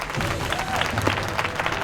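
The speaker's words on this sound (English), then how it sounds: "Applause." Short burst of steady applause, a dense wash of clapping from a group that holds even for under two seconds, moderately loud with no talk over it.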